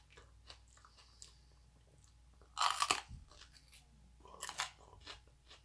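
A fresh sweet pepper is bitten crisply at close range, giving two loud crunching bites a couple of seconds apart with quiet chewing between them.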